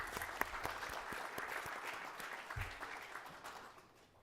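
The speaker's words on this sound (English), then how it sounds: "Could we all give all three board members a round of applause?" Applause at a school board meeting for three board members, steady clapping from a seated audience in a meeting room that gradually thins and fades toward the end.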